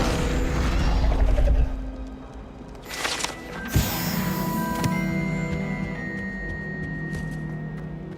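Incendio fire spell cast in the video game Hogwarts Legacy: a sudden whooshing burst and crackling blast rising out of steady game ambience and music, followed by a brief sharp impact, with no talking.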